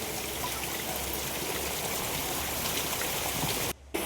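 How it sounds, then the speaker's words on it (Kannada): Heavy monsoon rain pours down at a farm house as a dense, even hiss of drops striking surfaces, steady and close for the whole stretch, breaking off only in a brief dip near the end. "ಸೌಂಡ್ ಕೇಳ್ತಿರ್ಬೋದು, ಎಷ್ಟಿದೆ ನೋಡಿ ಮಳೆ"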